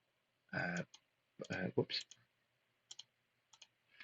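A homemade wheel of fortune for a Marvel Champions card game ticks through a few sparse, quiet clicks as it slows, following a stretch of talk.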